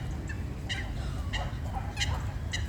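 A duck and a coot face off on a pond, with short fowl-like calls repeating every half second or so over steady outdoor background noise.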